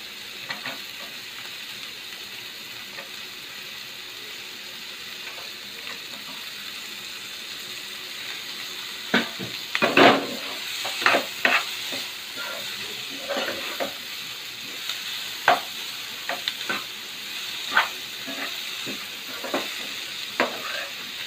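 Cabbage and mixed vegetables stir-frying for veg fried rice, a steady sizzle under scattered sharp scrapes and clacks of a spatula tossing them in the pan, busier in the second half, with no talking.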